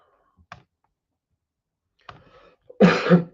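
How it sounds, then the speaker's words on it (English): A couple of small clicks and a short pause, then a single loud, harsh cough close by. "Enjoying coughing a lot today"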